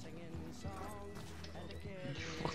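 Hooves of a horse galloping in a video game clatter steadily under loud, near-constant talk from players.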